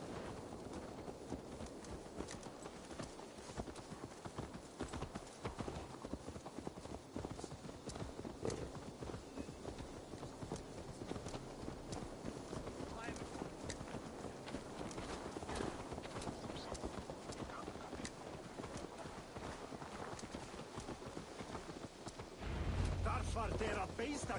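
Horse hooves clip-clop steadily on the ground in Assassin's Creed Valhalla, a continuous walking gait heard near and fairly loud over game ambience, with speech in the game nearby.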